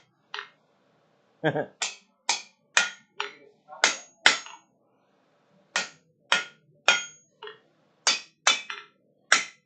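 A hammer rings on an anvil in a workshop, delivering a loose series of sharp, bright metallic strikes with short pauses between groups, loud and close, with no talking over them.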